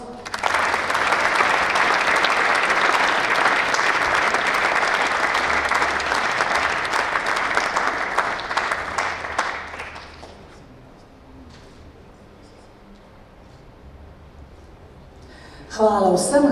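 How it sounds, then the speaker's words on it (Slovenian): Loud, sustained applause from a crowd at a sports awards ceremony, many hands clapping for about ten seconds before fading to a quiet room, with a voice returning at the end. "En velik aplavz"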